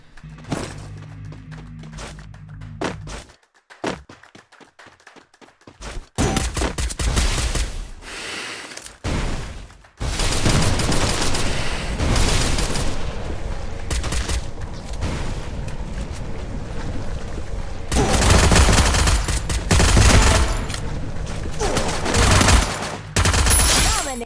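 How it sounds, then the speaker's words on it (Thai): Bursts of automatic gunfire and heavy shots crackle loudly through a Free Fire battle royale match, with several dense volleys separated by short quieter gaps. "ผมก็เลย โดน ทั้งข้างหน้าทั้งข้างหลังยิงนะครับ"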